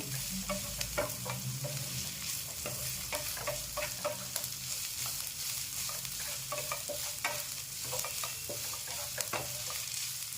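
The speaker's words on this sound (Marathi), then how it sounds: "कांदा मी चांगला परतून घेतला आहे" Chopped onion with garlic cloves and a piece of ginger sautés in a pan: a continuous, close crackling sizzle with frequent stirring scrapes and clicks throughout.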